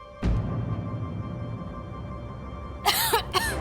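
A quiet steady background hum, then a few short bursts of coughing near the end.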